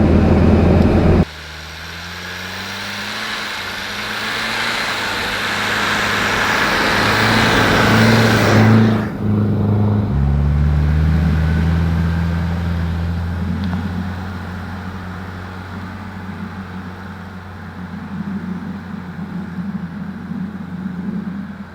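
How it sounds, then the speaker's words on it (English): Tyre-testing vehicle on Cooper Discoverer ST Maxx tires climbing a snowy incline through deepening snow, its engine droning steadily and working harder, with shifting low tones and a sharp change near the middle, loud and close throughout. "we're on an incline, so the vehicle's starting to really have to work"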